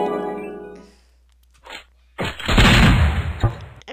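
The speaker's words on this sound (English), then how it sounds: "I prefer whatever this shotgun is" Shotgun blasts in the first-person shooter game Raze 2: a short burst of loud, close, crunchy gunfire after a brief quiet gap, following a fading tonal game sound.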